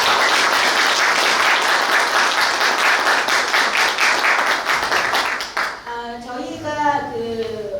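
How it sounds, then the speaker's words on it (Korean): An audience at an architects' association presidential candidate debate gives loud, dense applause that fades out, followed by a voice speaking. "우리 박수 한번 드리겠습니다."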